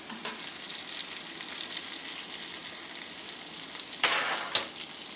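Shrimp sizzle steadily in melted butter in a pan, a continuous bright frying hiss with a sharper burst of crackle near the end as more butter goes in.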